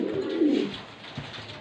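Silver French pigeons coo softly at close range, a low throaty coo followed by shorter murmuring calls, with no talking.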